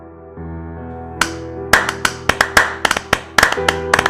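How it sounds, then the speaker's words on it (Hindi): Royal court clapping in a storybook palace scene, a handful of sharp separate claps starting after a quiet moment and gathering into a quick uneven patter over a soft sustained musical bed. "पूरा दरबार तालियों से गूंज उठा"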